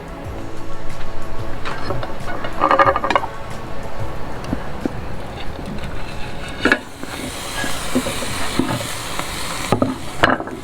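Meat searing on a very hot Kamado Joe Jr. charcoal grill with flames rising from the top vent, a steady loud sizzle running throughout with occasional metallic clinks and scrapes.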